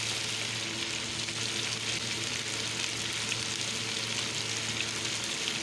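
Chicken feet frying with ginger garlic paste and salt produce a loud, even, unbroken sizzle close to the pan, with no talking over it.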